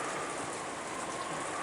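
Steady rain patters with a hiss of wind in an audio drama scene of Umineko When They Cry, a continuous even wash of falling drops with no voices.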